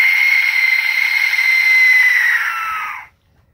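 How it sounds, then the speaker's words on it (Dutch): Aztec death whistle blown in one long shrill, screaming tone that wavers slightly and bends downward before cutting off abruptly, loud and close, followed by near silence. "Dat betekent letterlijk dode fluit van de Azteken."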